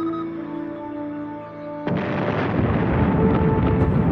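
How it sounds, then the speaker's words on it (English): A loud explosion goes off in the Evil Genius game, its sudden burst cutting through a humming tonal background and rolling into a sustained, rumbling wash of debris noise with no talking. "Go over here and detonate."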